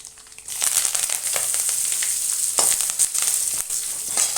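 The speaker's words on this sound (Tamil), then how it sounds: "அந்த சடசடப்பு அடங்குற வரைக்கும் வெயிட் பண்ணணும்" Spices temper in hot oil for South Indian mango rice, giving a steady loud sizzle scattered with sharp crackling pops, close up and with no talking.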